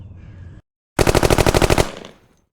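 A rapid string of about a dozen sharp rimfire gunshots from a Savage Mark II rifle fires in quick succession, close and loud, after a brief silence.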